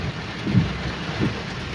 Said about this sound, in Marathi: मस्त पाऊस पडतोय बाबा.